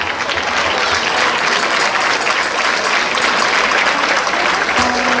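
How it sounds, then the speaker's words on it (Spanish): At a flamenco festival in Berriozar, the crowd gives a young female performer dense, loud, sustained applause, with a brief voice cutting in near the end. "Un aplauso para ella."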